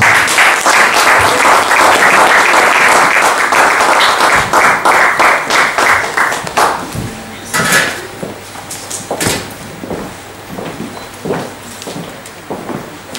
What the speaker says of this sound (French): Quand il s'approche, nous applaudissons pour notre Seigneur.